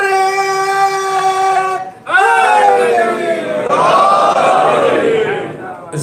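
A large congregation at a majlis chants religious slogans in unison, loud and close, with sustained voices rising in waves, a short break near the two-second mark, then renewed crowd chanting.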